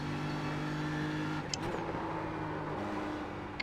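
A GT3 race car engine in the iRacing sim at Watkins Glen drones steadily, then drops in pitch on a downshift into a turn, with a couple of small clicks partway through.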